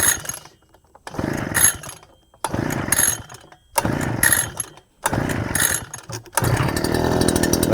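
A GarveeTech 43CC gas backpack leaf blower engine runs in repeated loud bursts. Each roar is cut off by brief silences before it settles into a steady, sustained drone.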